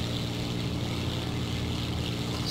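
A loud, steady propeller engine drone from a German dive bomber in the combat flight game War Thunder holds at an even, unbroken roar throughout.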